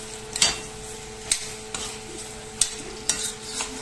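Pieces of cassava go into a beef curry in a pan and are stirred with a spoon, giving a handful of sharp scraping clinks at irregular intervals over a faint sizzle and no talking.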